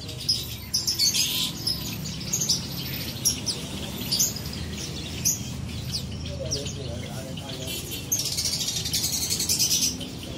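Songbirds chirp and tweet in short, scattered bursts throughout a bird market in Palmerah, mixed with a steady low crowd murmur and background chatter.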